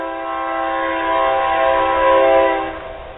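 A train horn blares in a long, steady, loud tone as the train passes nearby, swelling slightly before fading at the end.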